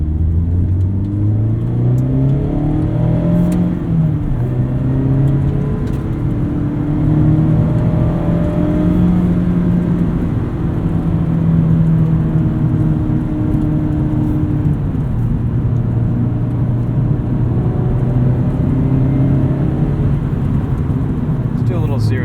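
A 2017 or 2019 Mazda MX-5 Miata engine drones from inside the cabin while driving, its pitch rising and falling through gear changes, with a person talking over it.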